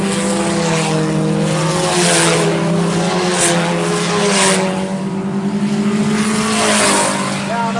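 IMCA race cars at Salina Speedway, a dirt oval track, with loud, steady engine roar rising and falling as the cars pass down the backstretch, close and continuous.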